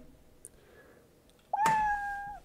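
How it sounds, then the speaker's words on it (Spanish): A cat meow sound effect from a Scratch game, a single loud drawn-out meow that breaks a near-silent pause and holds for about a second. "y hará miau el gato"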